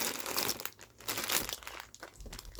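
Dollar Tree packaging is cut open with scissors, giving close, uneven bursts of plastic crinkling and crunching in short clusters, with nobody speaking.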